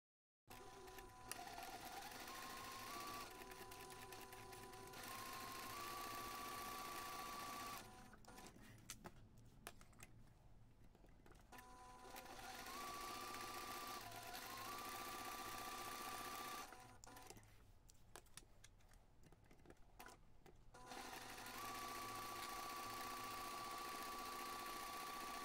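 Sewing machine stitching seams runs as a faint, steady mechanical hum across long stretches, pausing twice before starting again, with a few higher whine tones over the motor.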